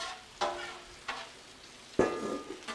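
Jalapeno peppers cooking on a Blackstone griddle, a soft steady sizzle broken by a few sharp scraping strokes of a spatula, close and moderate in volume, with no voices.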